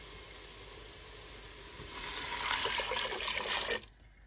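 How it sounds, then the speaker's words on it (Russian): Two liters of water poured from a tap into a pot for trout fish soup, a steady hissing, splashing stream that swells midway and cuts off abruptly near the end. "добавляем 2 литра воды."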